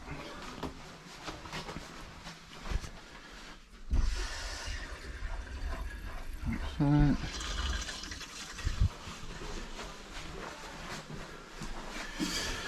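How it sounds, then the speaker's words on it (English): Water runs through a household shower after the mains supply is turned back on, a low hissing flow with gurgles and knocks that rises in bursts, while someone briefly speaks near the start. "turn the water back on."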